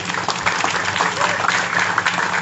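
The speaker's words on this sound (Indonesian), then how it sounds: "Itu tepuk tangan untuk Presiden kita ya." Audience at an agricultural ministry working visit in Kulon Progo, Yogyakarta, applauding the President: a steady, dense wash of clapping throughout, fairly loud and continuous with no clear talk over it.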